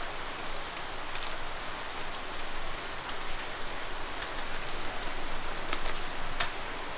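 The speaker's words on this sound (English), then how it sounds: "I think the rain is terribly loud." Steady heavy rain falls continuously around the listener, a dense hiss of drops with scattered sharper pattering taps on a surface and no voices.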